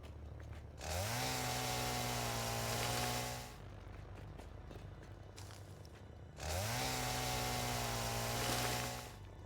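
Chainsaw cutting in the video game Satisfactory: two loud, sustained revving bursts of a couple of seconds each, separated by a quieter gap, with no one talking.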